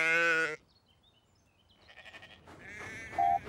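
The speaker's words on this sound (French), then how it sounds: "j'ai déjà compté ces moutons 5 fois" Cartoon sheep bleat, one loud wavering bleat at the start, then quieter bleats building again after a pause, close and clear with no talking over them.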